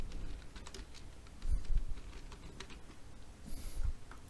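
A file name being typed on a computer keyboard: quiet, irregular key clicks and taps close by, with a slightly louder cluster of keystrokes midway.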